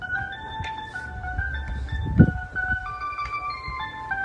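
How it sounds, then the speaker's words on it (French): An ice cream truck plays its tinkling melody outdoors, the tune carrying steadily from some distance with faint street noise and a brief low thump partway through. "on est dehors avec le fameux camion de crème glacée"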